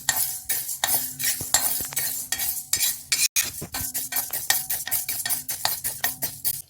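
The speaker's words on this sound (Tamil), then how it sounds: "இப்போ இது கூட துவரம் பருப்பை சேர்த்து வறுத்துக்கலாம். எண்ணெய் எதுவும் ஊற்ற வேண்டாம்." Toor dal dry-roasting in a pan without oil while being stirred continuously, for a drumstick leaf powder: a steady, close scraping and rattling of lentils against the metal, with quick repeated strokes and no voices.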